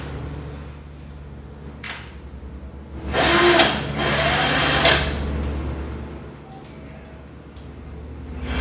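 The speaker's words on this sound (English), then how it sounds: "You gotta drill into the concrete first, then the screw will go into the drill hole." A power drill drills into concrete in a single burst lasting about two seconds, close by, with quieter background noise before and after.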